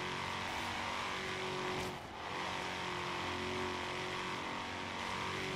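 Mustang GT350R engine in a Forza Horizon 3 race: a steady, loud, high-revving roar held at full throttle, dipping briefly for a gear shift before pulling hard again, with no talk.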